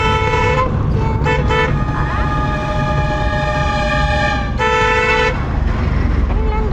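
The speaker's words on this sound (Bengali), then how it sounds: "আমরা একটা 4 চাকা গাড়িতে যাচ্ছি।" Engine and road rumble inside a moving four-wheeled vehicle, with repeated loud horn blasts from nearby traffic.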